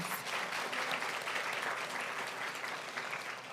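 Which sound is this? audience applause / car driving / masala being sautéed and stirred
audience applause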